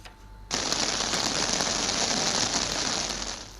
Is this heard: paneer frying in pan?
no